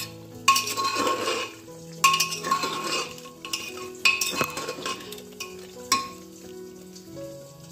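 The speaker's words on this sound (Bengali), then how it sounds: "মাটন কষানো চলছে" Mutton being stirred and sautéed in a pan, with scraping spoon strokes against the metal, clinks of utensils and a steady sizzle underneath, recurring in bursts roughly every two seconds.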